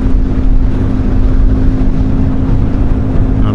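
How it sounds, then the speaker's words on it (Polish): Strong wind roars steadily against the microphone while driving near Turek and Przykona, Poland, a loud, constant rumbling buffet with a low engine-like hum beneath it. "Ale wiać to naprawdę wieje solidnie."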